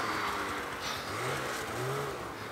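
A snowmobile engine whines and revs as a guide rides nearby, pitch rising and falling in a couple of swells over steady wind and motor noise.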